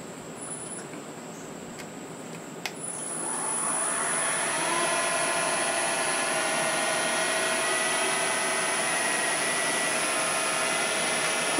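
A wood lathe spins up and turns a Christmas ornament blank between centers at about 1700 RPM, a steady high whine that rises after a quiet start and holds evenly, close and moderately loud.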